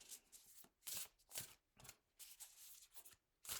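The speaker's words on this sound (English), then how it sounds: "So I'm just going to shuffle until something kind of pops out." A deck of tarot cards gets shuffled by hand close up, in a series of about eight quick, crisp riffling bursts with short pauses between them, and no talking.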